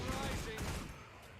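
Cannons firing in Guild Wars 2, a dense rumbling barrage of booming blasts filling the short span and easing slightly toward the end.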